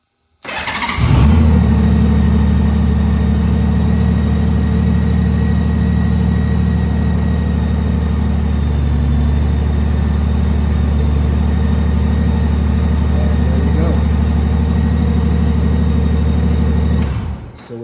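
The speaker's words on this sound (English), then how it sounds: "So we'll go ahead and start the bike." A motorcycle fitted with a QuadLock phone holder and wireless charger fires up and settles into a loud, steady close idle that runs unchanged for about sixteen seconds before cutting off, with no talking.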